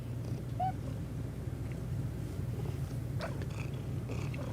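A pet cat purrs close by, a soft continuous low rumble with a faint chirp, steady throughout with little else around.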